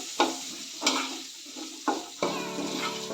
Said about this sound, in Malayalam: ഉപ്പിട്ടതിന് ശേഷം നന്നായിട്ട് മിക്സ് ചെയ്യുക